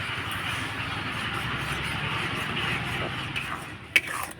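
Semolina pitha batter, made with double the liquid in water or milk, being stirred with a spatula in a pan over medium heat; a steady soft scraping and sloshing continues throughout, with a sharper clink near the end.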